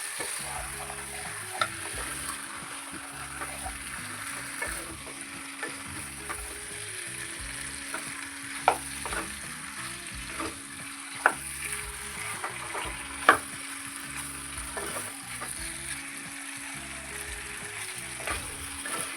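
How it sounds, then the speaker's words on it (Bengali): Chicken pieces coated in masala stirred and frying in a pan over a low flame, with a steady soft sizzle under repeated scraping and stirring strokes and a few sharper clinks of the spoon against the pan. "এখন আমরা খুব ভালোভাবে এটাকে নেড়ে দিয়ে ভালো করে নাড়াচাড়া করে মশলাটা ভালোভাবে মিক্স করে দেব চিকেনটা।"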